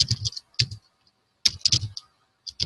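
Keys clatter on a computer keyboard in quick clustered bursts of crisp clicks, separated by short silent gaps, close and fairly quiet.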